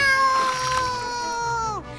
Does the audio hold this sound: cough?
no